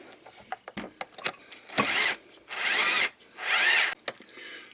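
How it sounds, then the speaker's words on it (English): A right-angle power drill whirs in three short bursts close by, driving screws during an RV toilet repair, separated by pauses filled with clicks and light handling noises. "Now I'll hook it up to my right angle drill here."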